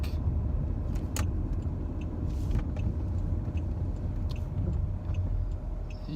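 Inside a moving car, a steady low engine and road rumble fills the cabin, with occasional light rattles and clicks over the continuous drone.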